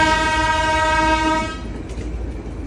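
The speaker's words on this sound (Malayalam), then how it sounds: "ഈ കാണുന്ന ട്രെയിനിലാണ് ഇന്നത്തെ യാത്ര." A train running through a market on the New Jalpaiguri to Siliguri line sounds a loud, sustained horn blast at close range, which cuts off to leave the low rumble of the moving train.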